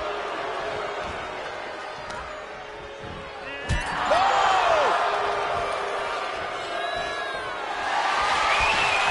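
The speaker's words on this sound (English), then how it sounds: "Face first in the turnbuckle" A wrestler slams face first into the turnbuckle in the WWE 2K24 game, a sharp impact thud over a loud, steady arena crowd roar with rising cheers.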